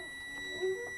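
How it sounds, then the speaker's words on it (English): Faint, steady electronic tone from a truck cabin's low air pressure warning alarm during an air brake inspection, a thin continuous beep heard quietly and alone for about a second. "So my lower warning and alarm test came up at 60 psi."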